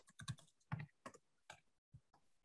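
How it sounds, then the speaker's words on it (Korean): Short bursts of computer keyboard typing, several quick keystroke clusters separated by brief pauses, close and fairly quiet with no talking. "제가 타이핑이 잘 안 되네요."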